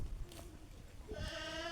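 An Alpine goat gives one short, faint bleat, rising near the end over a quiet farm background.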